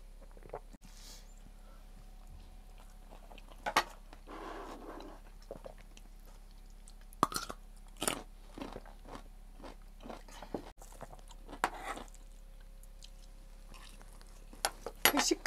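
Someone eats with a spoon at a foggy forest campsite, with scattered clinks, crunches and chewing sounds at irregular moments over a quiet background hum and faint talk.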